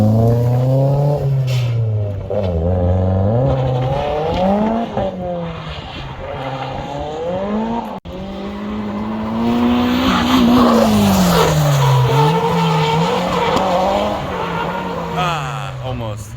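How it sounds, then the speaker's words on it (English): A drift car at an all-day drift jam in Portugal revs hard through a corner, engine pitch sweeping up and down as the tires skid and squeal, loud and close, with some talk over it. "He's gonna take the car and do some backies on this corner."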